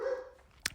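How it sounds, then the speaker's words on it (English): Dogs bark a few times from downstairs, one clear sharp bark near the end after a faint whining tone, sounding distant and muffled indoors. "my dogs are barking downstairs"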